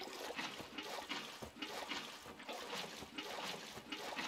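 Water flowing from a water source beside placed blocks in the Journey Beyond the Abyss video game, a gurgling, pulsing stream with a rhythmic surge and ebb at moderate volume.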